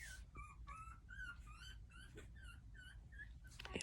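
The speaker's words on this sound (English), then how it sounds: "So puppies, a little fussy." Young puppies whimper and squeal in a steady run of high, rising cries, close and continuous for the whole stretch over a low background rumble.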